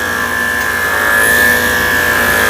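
Electric dog clippers with a number 7 blade run with a continuous buzzing hum, shaving down a Schnauzer, steady and close, with no pauses or talking.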